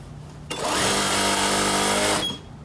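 A sewing machine stitches a waterfall box throw pillow, starting abruptly with a loud, steady whirring hum that runs for under two seconds before stopping, alone and close.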